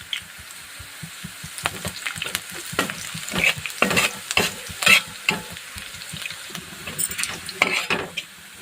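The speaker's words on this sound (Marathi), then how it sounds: "मिरची छान तळली गेलेली आहे मस्त भाजली गेलेली आहे" Green chilies frying in hot oil give a crackling sizzle, close by, with irregular taps and scrapes of a spatula stirring in the pan. No speech is heard.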